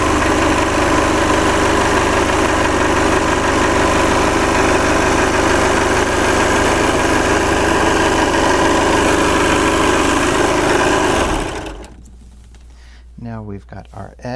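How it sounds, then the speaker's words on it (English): A serger sewing machine runs along a fabric edge with a loud, steady mechanical whir for about eleven seconds, then cuts off, leaving quiet and a few brief spoken words. "all we have to do is just put it in and go along that edge and serge it so it looks nice"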